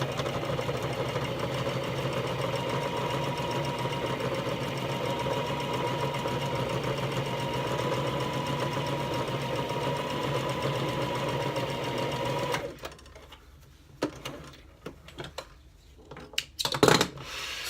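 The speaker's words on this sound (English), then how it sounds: "Instead of stopping, I'm just sewing," A sewing machine stitches quilt thread in one long, even mechanical whir that runs without pause, then stops and gives way to scattered clicks and handling noises.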